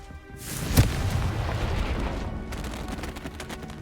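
A Confringo blasting spell goes off in the Hogwarts Legacy video game as a loud, close boom with a sharp crack at its start, followed by a rumbling, roaring tail that slowly fades.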